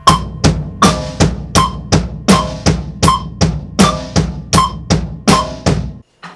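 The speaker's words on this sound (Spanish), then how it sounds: "ahora vamos a ver este mismo ejercicio con el metrónomo a una velocidad de 80 beats por minuto" Drum exercise with the bass drum playing continuous eighth notes alongside a metronome at 80 bpm, the strikes evenly spaced, close and punchy, with a faint click marking time, running steadily for about six seconds before cutting off.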